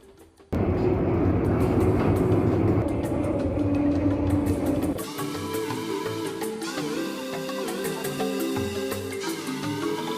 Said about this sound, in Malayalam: നമ്മുടെ ട്രെയിൻ അങ്ങനെ സ്റ്റാർട്ട് ചെയ്തിട്ടുണ്ട്